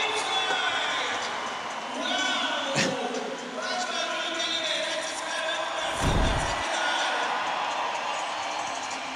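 A crowd cheers and roars at a skateboarding contest, a steady wash of voices with a couple of sharp board impacts cutting through, while an announcer talks over it.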